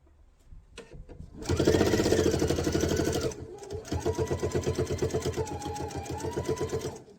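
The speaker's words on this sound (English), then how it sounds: "you sew all the way to the end, and then you're going to reverse for about 3-4 stitches or so" Sewing machine stitching a knife-edge quilt binding: a short burst of stitching, then a long loud run of rapid steady needle strokes, a pause, and a second run with an audible regular pulse.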